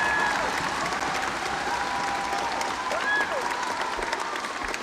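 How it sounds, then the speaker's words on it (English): Dense, steady applause from a large audience at a Peace Proms evening concert in Limerick, greeting a drummer as the crowd stands; loud continuous clapping fills the whole stretch with a faint voice or whoop rising briefly above it. "Round of applause. Go and let's stand up."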